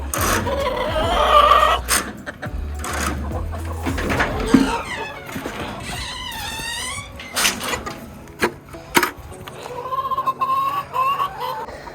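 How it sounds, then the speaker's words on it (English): Chickens cluck and squawk close by in bursts, with a few louder calls and shuffling, clattering noises between them. "These chickens are dying to get out because they can see the sun and feel it"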